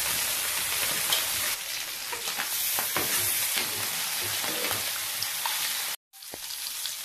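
Fish frying in hot oil, a steady loud sizzle and crackle throughout with scattered pops, briefly cutting out near the end before resuming.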